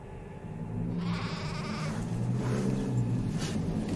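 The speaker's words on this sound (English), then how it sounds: "Now Abel was a keeper of sheep" Sheep bleat in a drawn-out wavering call that rises over a steady low rumble, close and clear, with no talk over it.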